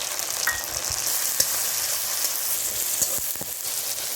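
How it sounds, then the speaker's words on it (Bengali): Chopped tomato fries in hot oil with garlic and onion, producing a dense continuous sizzle with a few sharp pops and light stirring clicks over a short stretch. "এবার টমেটো কুচি দিয়ে দিলাম।"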